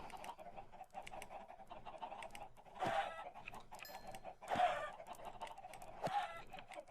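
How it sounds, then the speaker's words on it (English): Chickens in Minecraft squawking in three short, sharp bursts spaced a couple of seconds apart, over a quiet, low background of game ambience. "They do squawk."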